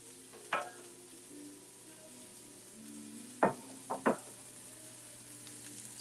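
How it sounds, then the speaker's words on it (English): Asparagus cooks in a pan with a soft, steady sizzle, broken by a few sharp scraping clatters of stirring utensils against the pan, close and fairly quiet. "So my asparagus are cooking."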